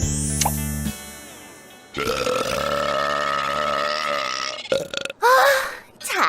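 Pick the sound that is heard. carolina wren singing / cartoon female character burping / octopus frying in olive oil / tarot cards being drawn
cartoon female character burping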